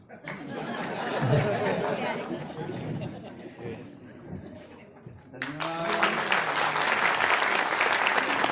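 Audience applause at a Maharashtra school event with material distribution and felicitation of meritorious students. Crowd chatter comes first, then a burst of loud, sustained clapping fills the room and carries through to the end.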